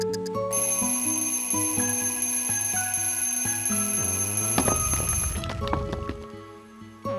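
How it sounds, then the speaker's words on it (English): Alarm clock ringing in Kirby's Epic Yarn on the Wii: a bright electronic bell chime rings steadily for several seconds and then shifts into a jangling burst as the game music continues, with no talking. "with our alarm clock button, we throw it down there."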